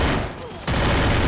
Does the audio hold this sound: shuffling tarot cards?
no